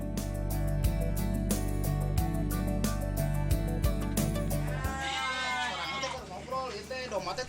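Garut sheep in a pen in Sukabumi, bleating under loud music for the first few seconds, then clearer wavering bleats from several animals near the microphone once the music drops out.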